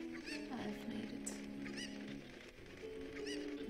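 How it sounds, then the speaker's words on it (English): A cucco chicken clucking in Breath of the Wild, a series of short squawky calls repeating over a steady layer of game music and ambience. "Chicken fell in the darn water."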